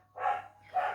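A dog barks twice in quick succession, two short, moderately loud woofs about half a second apart, faintly in the background over a low steady hum.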